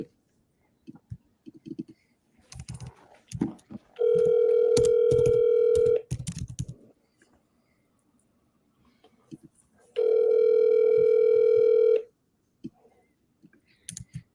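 A telephone ringback tone in a video game sounds twice, each as a steady two-second buzz separated by a long pause, with soft clicks and rustling noises in between.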